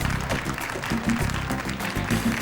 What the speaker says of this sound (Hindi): चलो सब अदा के लिए तालियां बजाओ।